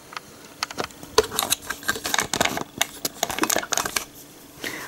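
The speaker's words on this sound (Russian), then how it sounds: "Будет слышно щелчки этого штативчика." Small camera tripod being adjusted in a home kitchen, giving a fast, irregular run of sharp, close clicks and light ratchet taps with short pauses between them and no voices.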